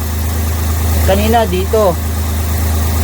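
A Multicab engine idles smoothly with a steady low hum and no shaking. Someone speaks briefly over it, close to the engine.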